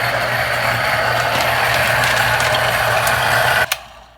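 An espresso grinder runs steadily while grinding coffee at a coarser setting, a loud close whirring mechanical drone that stops abruptly near the end, followed by a brief knock and then quiet.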